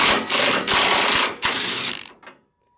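A power tool zaps off the bumper bracket bolts on a Honda S2000 during an impact bar install, giving about two seconds of loud, dense rattling bursts with brief gaps, then a quick fading tail and silence.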